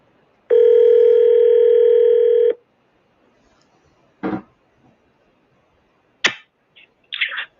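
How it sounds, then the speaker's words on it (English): A telephone gives a steady dial tone for about two seconds, then comes a few sharp clicks and brief tones as a call is placed, with nothing else in the background. "let's get Leslie on the phone"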